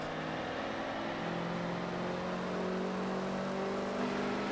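A 2006 Hummer H1 Alpha open top drives steadily in Forza Horizon 4, its engine a continuous loud drone with a low harmonic hum that rises slightly, no voices over it.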